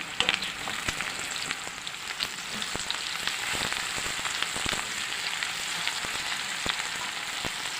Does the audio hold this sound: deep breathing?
no